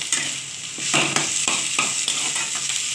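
Curry leaves fry in hot oil in a pan for a Bengali mixed vegetable dish with broad beans, giving a steady close sizzle broken by several sharp bursts of stirring scrapes, with no voices.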